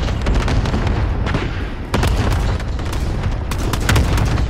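Call of Duty Warzone match: loud, continuous gunfire and heavy booming blasts crowd together up close, with a few sharper cracks standing out and no talking in the mix.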